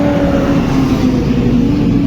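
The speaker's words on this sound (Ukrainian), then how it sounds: "Трактор." A tractor engine drones as it passes nearby, a loud, steady low rumble with a faint tonal whine, heard alone without talking.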